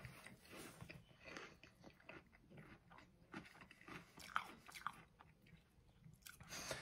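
Lucky Charms cereal being chewed close up, with soft, irregular crunching and biting sounds and a few sharper crunches, faint and without talk.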